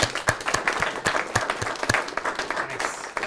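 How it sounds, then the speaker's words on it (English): A live audience at a house-wholesaling mastermind breaks into a round of applause, dense steady clapping with sharp individual claps standing out, close and lively throughout. "Can you guys give them a round of applause?"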